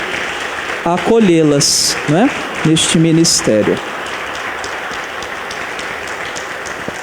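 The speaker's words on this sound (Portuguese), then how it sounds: "E nós vamos agora dar às meninas uma bonita salva de palmas" A church congregation at Sunday Mass applauding: after someone speaks briefly over the hall, a steady wash of many hands clapping fills the room and carries on evenly to the end.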